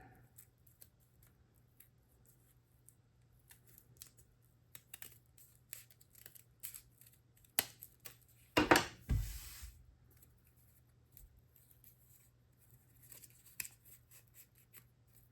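Scissors snipping through folded paper while cutting out a paper snowflake: quiet, scattered small snips and rustles, with one louder burst of paper handling near the middle, close and alone without talking.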